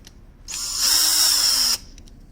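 A power drill whirs up close for just over a second, its pitch rising as it spins a screw out, then stops abruptly, during EGR valve replacement on a 2007 Renault Laguna 2 1.9 dCi.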